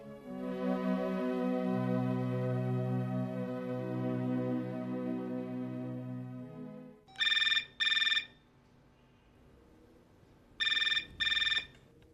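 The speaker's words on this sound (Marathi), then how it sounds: "शरद, फोन घे ना." A sustained tonal drone fades out, then an electronic phone ring sounds in two pairs of short bursts separated by a quiet gap, clear and fairly close.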